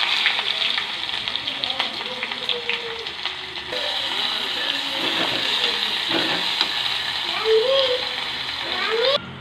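Cumin and mustard seeds fry in hot oil for a tempering for thotakura pappu, giving a steady close sizzle with faint pops while a person talks over it.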